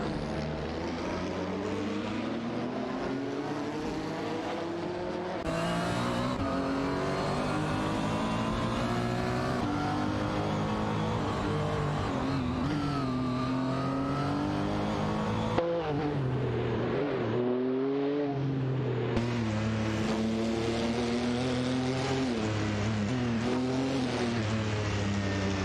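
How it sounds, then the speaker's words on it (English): Race cars in an AI racing video game, including a Ferrari F50 and a CTR Yellowbird, produce a continuous layered engine drone with shifting revs and pitch sweeps, several cars close together, no talk. "Nipbit in the Ferrari F50 are locked in a tight battle for 16th place."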